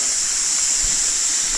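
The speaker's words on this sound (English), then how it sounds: "And a really little waterfall." A very small waterfall near temples in Chiang Mai, Thailand, pours with a steady, close, hissing rush of falling water, constant and unbroken, with no voices.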